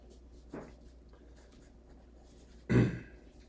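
A child writes a name on a small slip of paper, with faint pencil-on-paper scratching, a brief scrape early on and a louder rustle near the end, in a quiet room.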